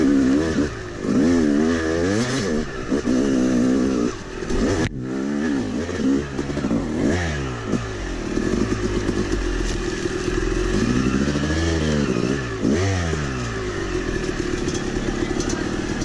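A Yamaha YZ250 two-stroke dirt bike engine revs repeatedly while being ridden, with rising and falling pitch sweeps and close, loud throttle blips, plus some clattering and a sharp knock partway through.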